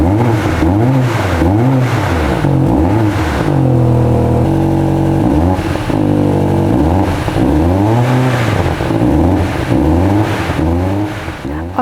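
A BMW XM Label Red with a 4.4-liter twin-turbo V8 revs loudly and close up in repeated rising and falling surges, with a steadier hold in the middle, and no talk.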